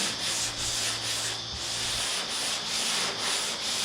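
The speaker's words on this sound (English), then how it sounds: "get me sanding block," Steady sanding on the bodywork of a Ford Falcon XB GS under restoration, a sanding block rubbing in even back-and-forth strokes, close and continuous with no talking.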